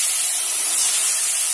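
Water is poured into a hot pan just after frying lentil dumplings (bori), giving a loud, steady hiss and sizzle of steam that fills the whole moment without a break.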